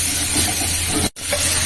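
Food frying in a pan with black cumin seeds and green chillies, a continuous close sizzle broken by a brief sharp dropout partway through.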